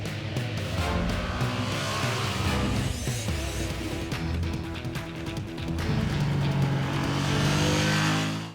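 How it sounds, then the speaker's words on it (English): A Ducati motorcycle engine revs hard and loud, holding a steady, continuous roar that swells higher near the end, with no voices over it. "If there is a Ducati on the road here, you hear it, but you don't see it, you recognize it's a Ducati."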